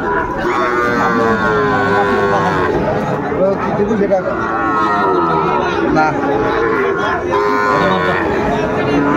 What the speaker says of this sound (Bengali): এটি গরুটি দেখছেন বেলাল ভাই।